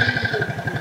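Motorcycle engine running with a quick, even putter of firing pulses, near and steady over less than a second.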